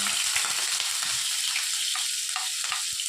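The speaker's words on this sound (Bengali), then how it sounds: "তেলটা গরম হয়ে গেছে, এবারে আমি একে একে পেঁয়াজ বাটা," Onion paste fries in hot oil, producing a dense, continuous close sizzle with occasional soft stirring scrapes, and no voices over it.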